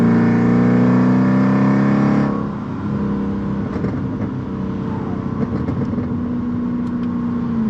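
A Mercedes C55 AMG V8 with straight-pipe Kleemann headers and valved mufflers hums from inside the cabin, with a steady drone that drops in pitch and settles into a low burbling rumble.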